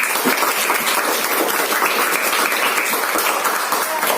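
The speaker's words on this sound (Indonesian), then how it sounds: "tepuk tangan dulu untuk anak Bapak" Schoolchildren applaud in a classroom, a dense, steady wash of clapping that stays loud and unbroken throughout with no talk over it.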